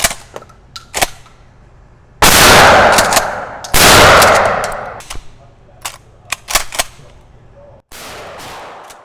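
A firearm fires two loud, close gunshots in quick succession, each with a long ringing decay, surrounded by sharper metallic clicks and clacks of handling and racking the slide.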